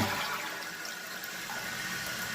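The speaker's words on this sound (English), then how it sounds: "there's not enough pressure whenever you're flushing your toilet to remove any restrictions that may be in your" A high-efficiency, low-water economy toilet flushes with a steady rushing wash of water that holds fairly even throughout, close and fairly loud, with no talking.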